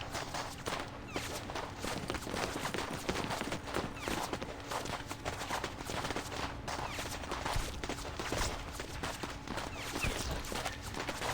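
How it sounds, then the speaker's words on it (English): Battle din from the video game Reverse: 1999: a dense, continuous wash of gunfire, clatter and scuffling that stays loud and steady throughout, with no clear voices. "The shot rings out like a thunderbolt on a cloudless day."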